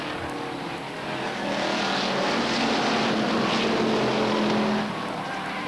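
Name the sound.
stock cars racing at Beech Ridge Motor Speedway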